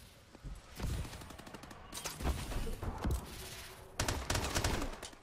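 Repeated pistol shots from an MP443 Grach in the shooter Call of Duty: Advanced Warfare, fired as sharp single cracks in irregular bursts at close range, with fainter game effects between shots.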